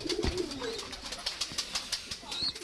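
Imported Dabla pigeons coo close by, a soft low call at the start followed by repeated short chirps and rustling from the birds throughout.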